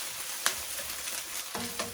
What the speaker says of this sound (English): you can hear the sizzle because the green chili and the ginger paste